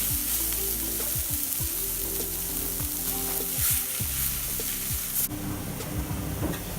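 Mashed potatoes frying in a pan with cumin for a rainbow egg chop, a steady sizzle with repeated stirring scrapes, ending in a louder burst of hissing; no talking.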